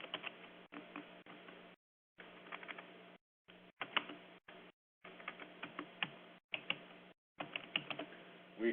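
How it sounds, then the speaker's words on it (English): Quiet computer keyboard typing in short bursts of rapid clicks separated by brief pauses, close and soft, no voices. "I can type in the sign name"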